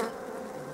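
Honey bees buzz steadily around a fallen queen in a hive, a close, continuous hum with no voices.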